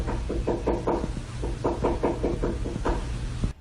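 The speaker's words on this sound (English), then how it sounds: "It sounds like someone is knocking insistently at the door," Insistent knocking from inside the walls, arriving in repeated quick clusters of sharp raps with brief pauses between, fairly close and loud, with no voices.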